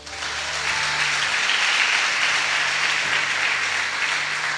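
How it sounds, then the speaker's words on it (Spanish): A church congregation at a revival night service breaks into loud, continuous applause, a thick even roar of clapping that swells slightly and holds steady to the end. "¿Cuántos le dan un aplauso al Señor?"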